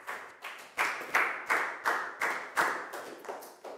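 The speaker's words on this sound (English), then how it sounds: "a big round of applause for Pangpon" A small class of Year 4 pupils claps for a classmate in a short, uneven burst of about ten distinct claps, each sharp and close, with quiet gaps between them and no talking.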